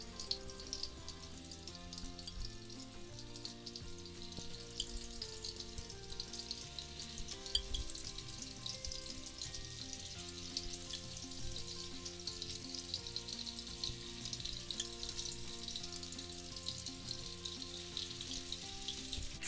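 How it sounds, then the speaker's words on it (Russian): Meatballs sizzle and crackle steadily in vegetable oil in a large frying pan, a continuous close frying hiss with faint background music underneath. "наша задача обжарить тефтели с двух сторон, не доводя их до готовности, только обжарить"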